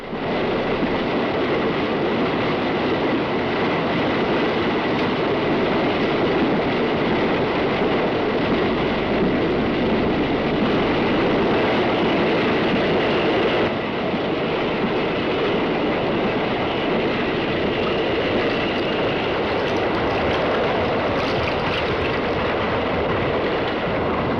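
A Gresley A4 steam locomotive hauling the Elizabethan express, heard as a steady, loud rumble of wheels and rolling stock with faint clickety-clack rhythm, continuous and close throughout.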